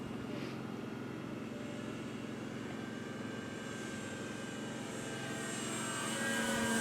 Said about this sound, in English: So overall, a nice flying plane.